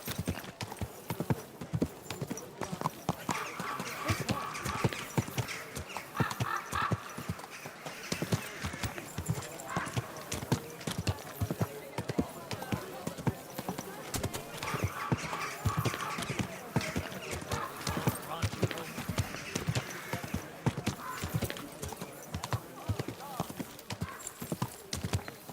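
Horse hooves clip-clopping at a steady walking rhythm throughout in the video game Kingdom Come Deliverance II, fairly soft and continuous, with a voice speaking over the footfalls.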